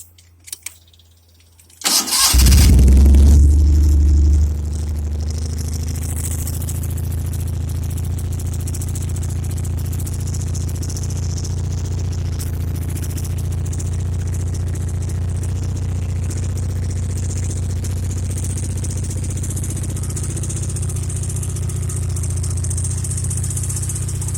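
A rebuilt Joyner Spyder 650cc engine, out of gear, cranks briefly and fires with a loud burst, then settles into a steady, close idle with a faint rattle that carries on alone.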